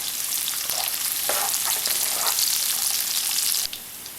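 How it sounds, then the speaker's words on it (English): Chopped onion frying in oil with cumin seeds, mustard seeds and chana dal, a steady close sizzle with crackling pops throughout and brief stirring scrapes, the hiss easing slightly near the end; no one talks. "Add half chopped onion and cook it for 2 minutes."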